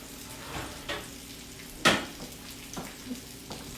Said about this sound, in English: we're basically giving them a good sear and starting the frying process right away